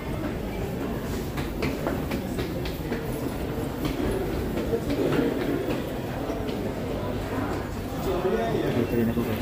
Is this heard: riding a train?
yes